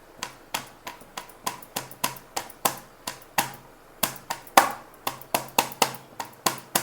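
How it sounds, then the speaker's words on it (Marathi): Garlic cloves are crushed with steady, sharp pounding strikes, around twenty evenly spaced knocks close by, with no talking. "आपण लसूण चेचून घेऊया बघा"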